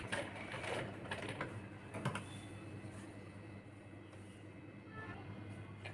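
A sewing machine runs steady rounds of stitching as kurti sleeves are sewn on, a faint mechanical rattle with soft clicks throughout.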